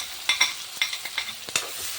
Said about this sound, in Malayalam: ഒന്നര ഒന്നര സബോള ഞാൻ വറുക്കാനായിട്ട് എടുത്തിട്ടുള്ളൂ